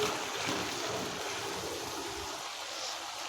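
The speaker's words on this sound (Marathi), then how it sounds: "इथे बघू शकता भरपूर असे बुडबुडे येत आहेत" Sliced onions deep-fry in hot oil on high flame for veg biryani, giving a soft, steady bubbling hiss that carries on without break.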